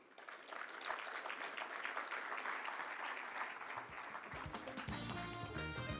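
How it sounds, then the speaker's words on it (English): An audience at a World Environment Day launch ceremony claps for a development bank vice president, a steady, full wash of applause that runs throughout, with music or other sound coming in near the end. "Would you kindly applaud for the Vice President of the African Development Bank?"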